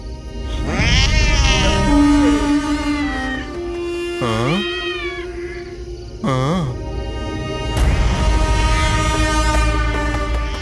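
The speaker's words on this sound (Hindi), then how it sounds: "भाई बिल्ली ने रास्ता काट दिया, क्या मतलब है इसका?" Several loud, drawn-out cat meows with rising and falling pitch, heard alone over a steady low hum, with pauses between the calls.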